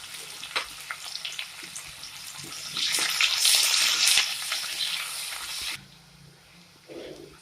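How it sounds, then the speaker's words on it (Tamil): Chopped onion fries in oil in a kadai for murungai keerai poricha kuzhambu, with a crackling sizzle that swells loudly midway with stirring, then drops to a softer hiss. "இப்போ வெங்காயம் நல்லா வதங்கிடுச்சு."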